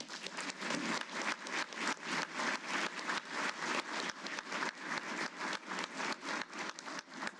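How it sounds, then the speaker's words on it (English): Clapping rises at a DLA Hall of Fame ceremony honouring an inductee, sounding as a series of rhythmic surges and dips in a dense crowd of hands and holding steady throughout. "Please give her a round of applause."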